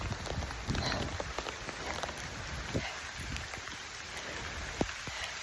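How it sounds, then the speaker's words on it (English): Steady rain patters outdoors during a walk with dogs, a dense close hiss broken by scattered sharper drop taps, with no talking. "Get some rain now."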